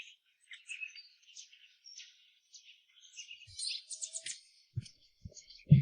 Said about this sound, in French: Même les oiseaux dans les arbres sont par deux.